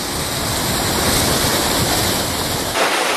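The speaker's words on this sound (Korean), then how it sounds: "여기 물소리가 들립니다." Steady rushing water flowing beneath a glacier in Norway fills the clip, a loud broadband roar like a torrent nearby, with a brief dip near the end.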